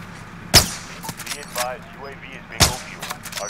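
Two sharp gunshots from a shooter video game crack out about two seconds apart, loud and close, with quieter game effects and soft voices murmuring in between.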